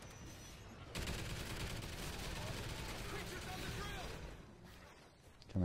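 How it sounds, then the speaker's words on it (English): Sentry gun in the video game Extinction, a loud sustained burst of rapid automatic fire starting about a second in and running continuously, dense with impacts and game noise, ending with a sharp blast. "Sentry gun."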